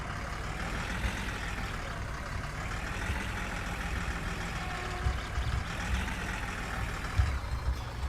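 An old car's engine runs in the My Summer Car game, a rough, steady, close rumble with a few small knocks and clunks, and no voices over it.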